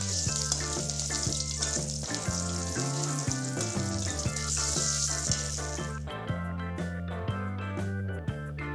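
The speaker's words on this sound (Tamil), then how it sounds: "இதை தாளித்து குழம்புல ஊற்றிக்கோங்க" A mustard, curry leaf and asafoetida tempering is poured into a chana dal and brinjal kootu, giving a continuous soft sizzle that sits beneath louder melodic background music and fades near the end.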